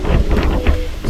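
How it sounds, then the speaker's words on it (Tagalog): Steady rain pours down in Baguio during a motorcycle ride, a dense wash of noise with wind buffeting the microphone throughout the short stretch. "It's raining."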